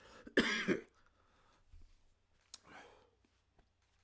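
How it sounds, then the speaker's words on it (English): A single sharp cough close to the mic, followed by a softer throat-clearing sound a couple of seconds later, over a quiet background. "excuse me, cough got me"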